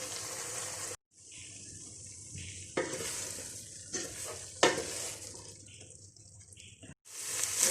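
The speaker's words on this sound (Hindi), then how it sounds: "हल्के हाथों से इसको हिलाएंगे" Beef roast stirred in a pan over high heat while its water cooks off: a steady sizzle with scraping strokes of a spoon and clattering stirs, broken by a couple of brief pauses.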